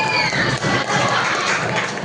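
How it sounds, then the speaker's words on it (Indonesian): A school quiz-competition audience cheers and applauds for team A, a dense continuous wash of shouting voices and clapping close by and loud throughout. "Tepuk tangan untuk regu A"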